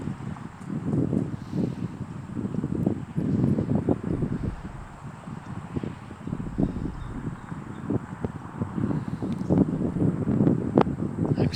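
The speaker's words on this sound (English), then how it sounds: "as you can hear and see, we have quite a bit of wind today in the Texas winter" Strong winter wind blows outdoors in Texas, buffeting the microphone in continuous low, gusty roars that rise and fall throughout, with no voices.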